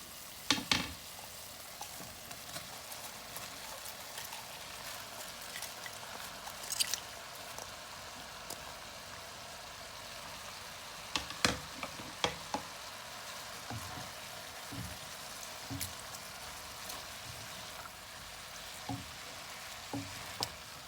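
Cabbage sizzles and fries steadily in a pan of ginisang repolyo with ground meat and carrots, with occasional stirring clicks and scrapes, fairly quiet and close, no talking.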